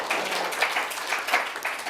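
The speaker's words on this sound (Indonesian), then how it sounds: "tepuk tangan untuk kelompok 4" A classroom audience claps for a group after its presentation, a dense, even patter of many hands that carries on steadily without a break.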